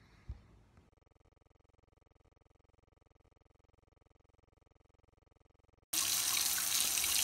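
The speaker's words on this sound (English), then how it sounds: "make sure you have your hot water running as hot as it can go" Hot water from a kitchen tap turned on full, a steady loud gush that starts abruptly and runs alone after a short hum and a few clunks.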